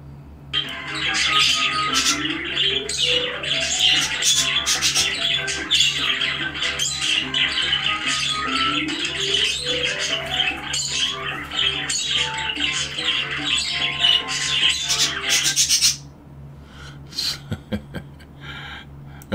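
Pet birds squawk loudly and chatter nonstop over a played recording of many chirping wild birds, a dense, excited din that runs for about sixteen seconds before abruptly dropping to near quiet.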